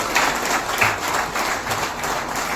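Applause at a welcome ceremony for a district education officer, a steady wash of many hands clapping at moderate distance, fairly even in loudness throughout.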